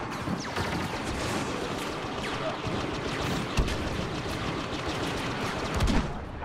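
Nien Nunb's turret cannon firing in the Star Wars Battlefront video game, heard as steady, rapid distant blasts and gunfire on the Bespin map, fairly faint and continuous, with a few sharper thuds near the middle and end.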